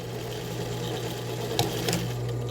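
Domestic sewing machine stitching lingerie fabric, a steady close mechanical hum with a rapid needle rhythm and a couple of brief clicks near the end.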